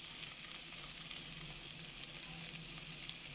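Chopped onions frying in butter with spices such as cinnamon, cardamom, pepper and cumin, a steady, faint, even sizzle throughout with soft stirring underneath.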